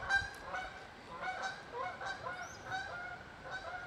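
Several geese honk repeatedly at a moderate distance, their calls overlapping in a steady rhythm against a soft outdoor background.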